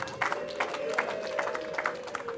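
Wedding guests applaud at a celebration, giving a steady run of overlapping claps in a crowd over a sustained tonal hum and background noise.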